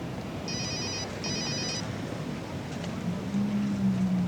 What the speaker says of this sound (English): Come on, Danny, pick up the phone.